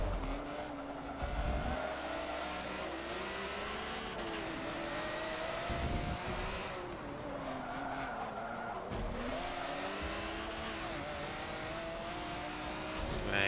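A Ferrari F50 race car driven in the Forza 7 racing game, with a loud sustained engine howl that rises and falls through gear changes, mixed with repeated tire squeals and skids, plus other cars passing.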